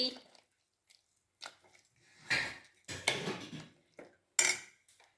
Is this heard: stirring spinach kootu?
yes